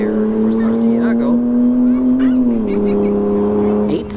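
A Ford F-150 spins its tires off the launch at a dragstrip, its engine holding a loud steady drone that dips in pitch partway through, close and dominant, with an announcer's voice faintly mixed in.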